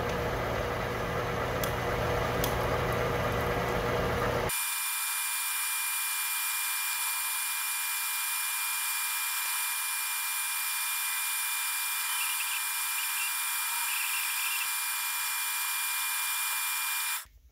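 A drill bores a deep hole in a metal clamp part, first a loud grinding burst for a few seconds, then a steady high-pitched machine whine that runs faintly on until it cuts off.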